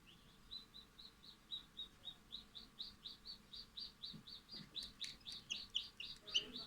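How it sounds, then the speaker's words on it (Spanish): Newly hatched chicken chicks in an incubator give a steady series of high, rhythmic peeps, roughly two or three per second and growing slightly louder, close by against a quiet background. "el momento en que el pollito termina de romper el cascarón y empieza su vida"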